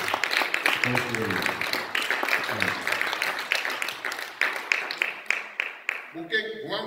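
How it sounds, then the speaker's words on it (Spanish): A congregation applauds for Christ during a church worship service, loud sustained clapping throughout with a speaker's voice talking over it and a short burst of speech at the end. "Den un aplauso a Cristo."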